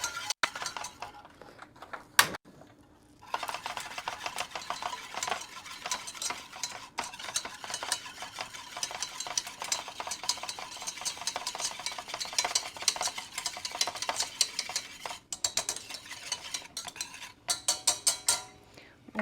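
Brown sugar and butter are stirred in a pan over heat, with a continuous scraping and clinking of the utensil against the pan under a soft sizzle, briefly pausing near the start.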